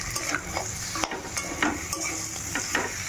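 Shredded cabbage sizzles in a pan while a spoon stirs and scrapes it in irregular strokes, steady frying hiss underneath the close clatter.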